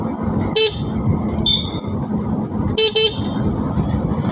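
A vehicle drives along a road past areca nut and banana plantations, with a low rumble of engine and road noise and a few short horn toots, one single and one double.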